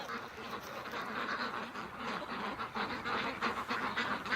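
Domestic ducks quack in a busy, overlapping chorus as they are let out and head into the water, steady and moderately close with no talk.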